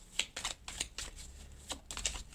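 Tarot cards shuffled and turned over, a series of soft quick riffling flicks, close but faint.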